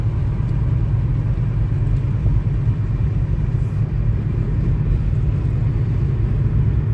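A car drives out of a small Oregon town past farmland, its engine and road noise making a steady, close, low rumble that holds evenly throughout with no talking.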